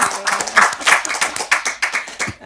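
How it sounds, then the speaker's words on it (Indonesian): A small audience claps for speaker Hajjah Aisyah Dahlan at an Indonesian talk event, distinct, fairly loud hand claps in a loose uneven rhythm, close by, with a faint voice underneath. "Tepuk tangan buat Hajjah Aisyah Dahlan"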